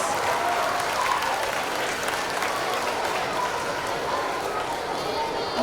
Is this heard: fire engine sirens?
no